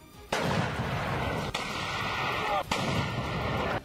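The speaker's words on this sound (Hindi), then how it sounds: "जैसे ही उसने रस्सी खींची, जोरदार धमाके के साथ लॉन्चर से गोला फायर हो गया" A Hurricane multiple rocket launcher fires a shell with a single loud, close blast, followed by a sustained roaring rush and a second sharp report, all without voices.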